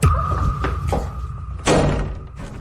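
Someone bangs on a locked door with a few heavy, irregular thumps up close, ending in one loud crashing blow.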